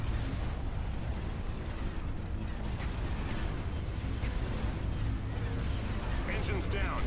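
Starship weapons firing during a Star Wars space battle in a video game, repeated booming blasts and bursts under a dense battle din, with voices talking over the action.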